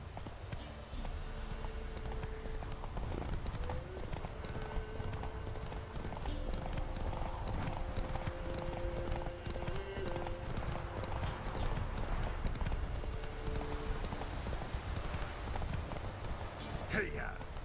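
Steady clip-clop of a horse's hooves galloping in the video game The Witcher 3, continuous and close, with game music tones and a brief voice over it.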